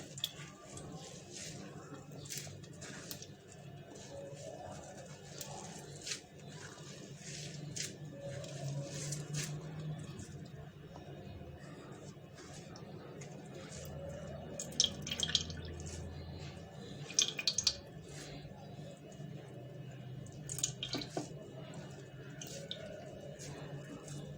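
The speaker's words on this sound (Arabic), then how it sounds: "عصرته جامد، نزلت الميه منه كلها." Water is squeezed hard out of half a cup of soaked bulgur by hand, giving faint, intermittent squishing and dripping sounds with occasional louder wet squeezes against a quiet kitchen background.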